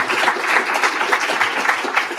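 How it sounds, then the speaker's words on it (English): Steady round of applause from a conference audience at a programming-language event, dense and even clapping filling the whole stretch at moderate level with no voices over it. "round of applause again"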